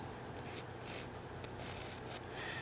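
Soft pencil strokes scratch across canvas while a hummingbird is roughly sketched, quiet repeated swishes in an irregular rhythm, close and alone.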